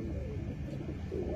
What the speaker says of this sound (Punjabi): ਇਹ ਜੇ ਨਵਾਬਾਂ ਵਾਲੇ ਕਬੂਤਰ